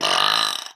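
One loud, raspy burp close to the listener, a sustained rough belch of under a second that cuts off abruptly into silence.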